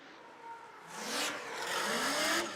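A race car in Great Lakes ProAm Series qualifying drives hard into a corner, its engine rising in a loud, building roar with shifting revs, heard from a commentary booth above the track.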